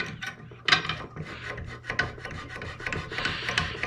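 600-grit abrasive rubs over the locking lugs of an M1A rifle in repeated rasping strokes, a close, uneven scratchy sound with small metallic clicks between passes.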